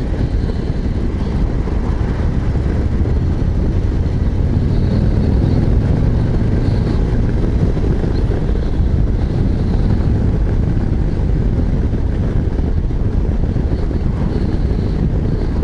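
A constant low engine drone from a 2024 Harley-Davidson Street Glide 117 riding in sixth gear at about 2000 rpm, heavily buffeted by loud wind rushing over the microphone, steady with no breaks.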